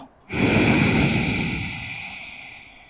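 One long, steady exhale during home yoga practice is heard close to the microphone. It starts abruptly, holds a breathy hiss for over a second, then tapers off gradually, and no one speaks over it.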